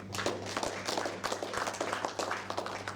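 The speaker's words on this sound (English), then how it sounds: "Warm round of applause for them." Applause for the adjudicators at a billiards nationals final: a steady spatter of clapping from an audience, filling the whole stretch at moderate loudness with no talk over it.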